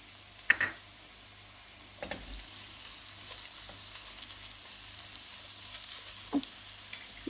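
Minced meat frying in a pan with onions and peppers: a faint, steady sizzle under a few soft utensil knocks and clicks, nearby and quiet, with no talking.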